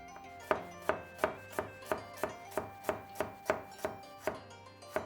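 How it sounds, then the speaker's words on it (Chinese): Ginger sliced with a knife on a board, about thirteen crisp, evenly spaced chops in a steady rhythm, close and clear with no talking. "姜切片"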